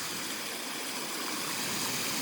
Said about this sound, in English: It's a way for me to fill the pond without having to use any electricity at all